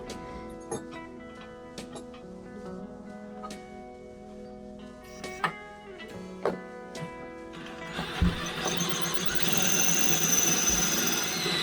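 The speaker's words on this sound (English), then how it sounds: "I have to drill there, there and there" A power drill bores holes on a boat for an autopilot installation, first intermittent clicks and short knocks, then a sustained whirring drone building loudly in the final seconds.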